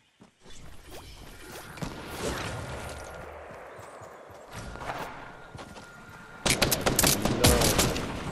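Gunfire in a Fortnite match, with bursts of shots and game noise over several seconds, then a louder, denser rapid volley near the end, no talking.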